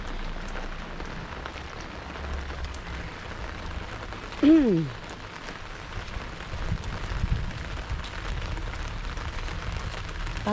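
Steady rain falls in a continuous broadband hiss with one brief louder sound midway, heard from under a large umbrella on a rainy walk to school.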